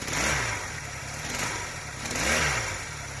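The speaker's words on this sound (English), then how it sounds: "Let's give it a bit of a rev." A Honda CD175 motorcycle engine revs up twice over a steady idle, each rise swelling and falling back in a close, loud mechanical drone with no talking.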